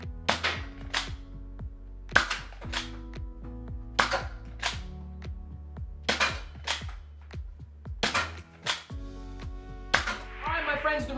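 A Nerf Alpha Strike Cobra RC-6 revolver blaster firing Zuru X-Shot foam darts: sharp, close snapping shots in pairs roughly every two seconds, each followed by ringing and ratcheting mechanical clicks from cocking.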